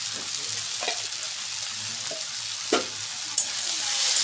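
Onions fry in a pan with salt and turmeric, giving a continuous, moderate sizzle while a spatula scrapes and taps against the metal now and then.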